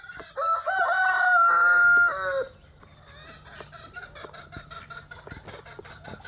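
A rooster crows loudly and close for about two seconds, then hens cluck softly in the background on a farm.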